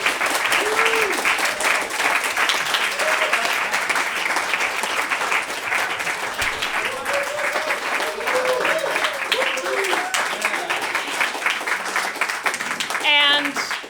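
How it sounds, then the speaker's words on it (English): An audience at a poetry reading claps for the prize winners, a steady, full round of applause with a voice speaking over it. "So please join me in applauding this year's recipients"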